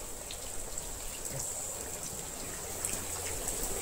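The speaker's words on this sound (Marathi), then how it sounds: "आल्यापासून कंटिन्यू पाऊस पडतो" Soft, steady rain falls continuously in a hilly Maharashtra village near a waterfall, a faint even patter with occasional heavier drops and no voices.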